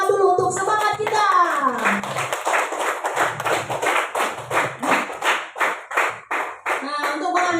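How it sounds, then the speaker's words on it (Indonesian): A classroom of children clapping their hands together in a steady rhythmic beat, close and loud, with a few voices over the start before the claps take over. "Oke, tepuk tangan dulu untuk semangat kita."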